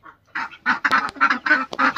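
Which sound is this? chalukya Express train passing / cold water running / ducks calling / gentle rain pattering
ducks calling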